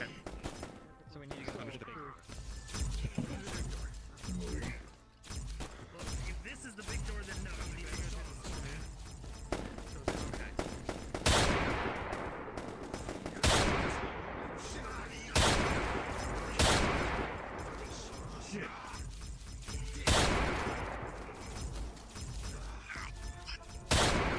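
Automatic weapons dumping magazines in a multiplayer shooter game, dense rapid gunfire with repeated loud bursts and sharp cracks through a building lobby, continuous and close, with players talking over it.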